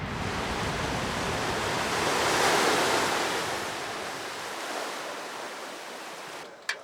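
Ocean surf rolls in off Nasi Island in Indonesia, a broad rushing wash that swells to a peak and slowly recedes, heard close with wind noise and no voices.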